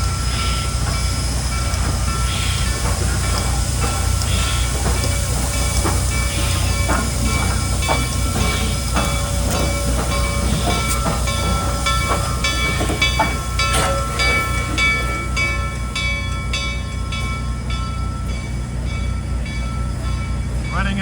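Reading & Northern steam locomotive #2102 pulls a passenger train on a ride from Nesquehoning to Pittston, a loud steady rumble of railcars with rhythmic wheel clicks and faint hiss throughout.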